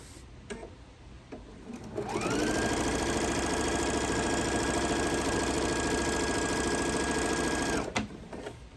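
A sewing machine stitches binding onto a quilted Noel tree skirt, starting after a brief pause and then running steadily and loudly at a constant speed for about six seconds before stopping, with no talking.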